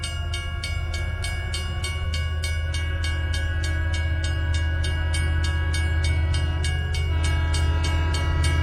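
A train runs in a cartoon horror story: a loud, steady rumble with a fast, even clickety-clack rhythm that carries through the whole stretch and never stops.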